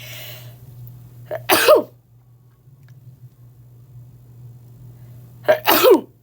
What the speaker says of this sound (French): Ensuite, je vais éternuer.